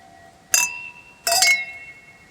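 Two bright clinks of Dom Pérignon champagne glasses in a toast, close and clear, each ringing briefly with a lingering tone before fading.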